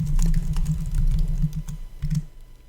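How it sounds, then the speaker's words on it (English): Fingers type on a computer keyboard while editing text in Vim, producing close, quick irregular clicks with a few heavier key thumps, alone and without speech. "so we can just start typing"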